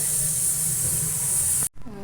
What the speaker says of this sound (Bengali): ডাল প্রেশার কুকারে সিটি মেরে নিয়েছি